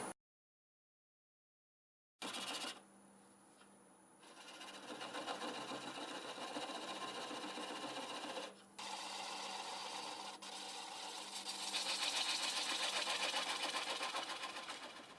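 Wood lathe spinning a pear crotch bowl blank at about 450 rpm, a steady hum with a faint whine. Tool-on-wood scraping rises in bursts and grows louder and brighter toward the end, with a brief dip in the middle.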